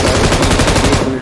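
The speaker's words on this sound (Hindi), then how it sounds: "एक को इजीली डाउन करता हूँ M249 से" Sustained rapid bursts from an M249 light machine gun in a shooter video game, loud and continuous for about a second before cutting off.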